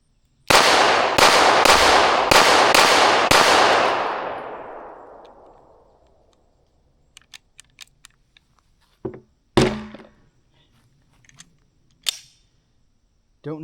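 Five sharp gunshots from a Canik MC9 Meta Prime ported pistol fire in quick succession, loud and ringing, then decay; after a pause come a few scattered clinks and thuds, including one louder bang.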